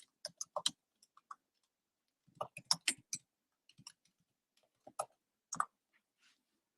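Typing on a computer keyboard in a chat box, with scattered bursts of crisp key clicks separated by short pauses, close and fairly quiet, alone without speech.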